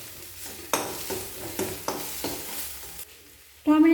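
Garlic paste and coriander powder are stirred in hot oil, with a steady sizzle and repeated scraping strokes of a spoon in the pan, ending in a brief louder burst.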